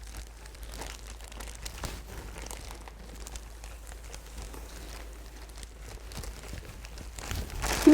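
A plastic kimchi-making bag crinkles and rustles steadily as it is handled and pressed, close but fairly quiet, with a louder crackle at the end.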